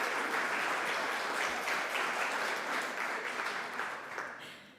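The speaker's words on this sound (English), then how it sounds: "Clap." Sustained audience applause, dense and steady, fading slightly toward the end, with no talk over it.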